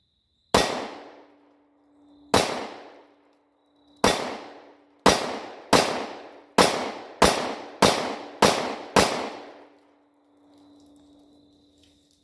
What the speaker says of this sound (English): The pistol shot well, functioned well.